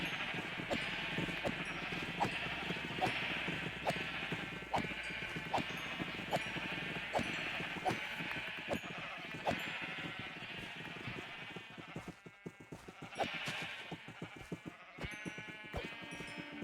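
Sheep bleat repeatedly in the Minecraft video game, a steady run of short bleats over continuous game music and ambience, no talking.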